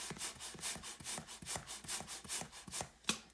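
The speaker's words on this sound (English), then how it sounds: "put the balloon over the handheld pump just like this, and just pump it." Rhythmic whooshing strokes of a handheld pump inflating a balloon, about a dozen quick regular pumps close by, with a slightly sharper final stroke and no talking.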